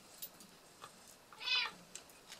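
A cat gives a single short meow partway through a quiet indoor moment, fairly faint and alone, with a few soft rustles and clicks around it.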